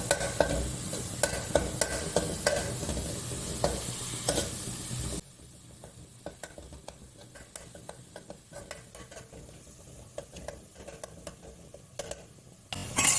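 Jackfruit for kadachakka thoran frying in a pan, a loud sizzle with scraping stirs for about five seconds, then a quieter steady crackle with occasional spoon clinks, swelling again at the end.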